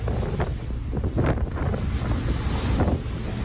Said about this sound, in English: the boat was really slammed around